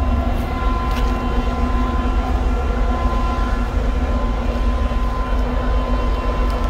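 A train rumbles steadily past close to a railway station, a continuous loud drone with a sustained tonal hum and no pauses, with no voices.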